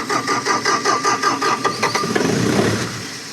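A Bobcat T870 compact track loader's engine cranks and catches, idles and revs roughly in pulsing bursts, then cuts out and dies away, loud and close with no voices.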